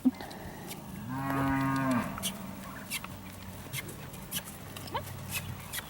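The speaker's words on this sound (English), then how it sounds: "He says there's a cow in the trees over there that I'm not sure about." A cow moos from among the trees at a distance, one drawn-out call lasting about a second in the middle of an otherwise quiet outdoor stretch with faint background noise.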